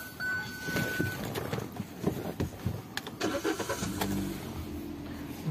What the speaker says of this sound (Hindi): एक बार गाड़ी को स्टार्ट करता हूँ।